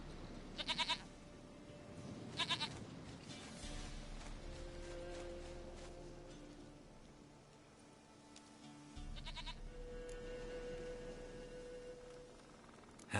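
A goat bleats in a video game, with several short bleats spread across a quiet, steady game soundtrack with a low drone and soft tones.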